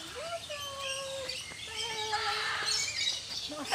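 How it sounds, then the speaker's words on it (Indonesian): Many birds chirp, tweet and squawk together in a bird park at the Royal Safari, with bright overlapping calls that build in density over the few seconds, close and lively. "Lihat tuh banyak burung-burung."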